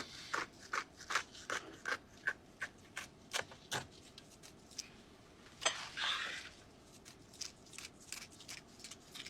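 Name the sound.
scissors cutting along fish fins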